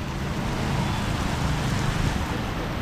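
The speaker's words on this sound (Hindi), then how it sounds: "और भाई साहब देखो बारिश काफ़ी तगड़ा होने लगा है, तेज़ एकदम" Heavy rain pours steadily on a city street at night in Chennai, a dense continuous hiss close by with no pauses, nothing else standing out over it.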